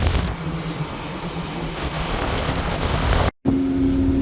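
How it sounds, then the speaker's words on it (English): Strong wind buffeting the microphone in a continuous roar at sea near the Ravenel Bridge, loud and close, cutting out briefly near the end. "It's very windy out here."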